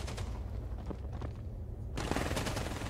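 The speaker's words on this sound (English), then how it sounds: "All right, so this is the AK." An AK rifle in the VR shooter Ghosts of Tabor fires rapid, loud bursts of shots that run almost continuously, with a short lull before a heavier volley near the end.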